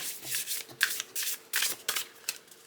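Playing cards are riffle shuffled several times in quick succession, each a short crisp flutter of snapping cards, close and fairly quiet.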